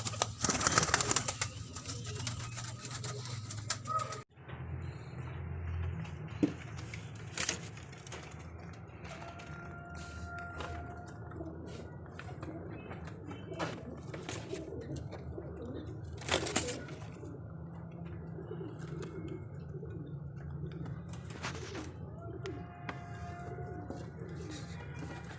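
Khal pigeons in a breeding loft setup give soft, low cooing calls that recur through a steady background hum, with a few brief sharper sounds and some wing movement.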